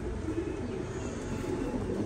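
Pigeons in a loft in Chittagong coo softly and continuously, a low murmuring burble over faint background hiss, with no talking.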